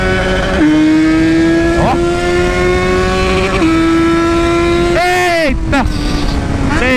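Motorcycle revving hard through the gears toward its rev limiter, a loud close engine scream climbing in pitch with quick shift dips and a sharp cut near the end, a rider exclaiming briefly over it.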